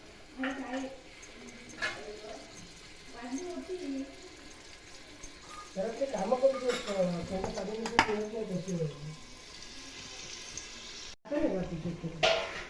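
Chopped onion frying in a generous amount of oil in a pan: a soft continuous sizzle with crackles and occasional stirring noises runs under a person talking throughout.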